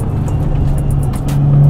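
A car engine held in third gear, a loud steady low drone from inside the cabin with a constant tone that swells slightly near the end.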